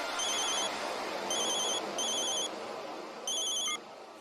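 A telephone rings in repeated electronic bursts, four short trilling rings with brief gaps between them, heard clearly over a quiet room background.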